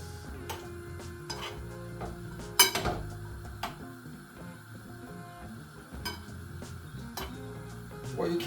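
Spoon stirring kidney beans and chickpeas seasoned with oregano in a cooking pot, a steady scraping swirl with a few sharp metal taps and clinks against the pot, close and fairly loud, with a faint sizzle underneath.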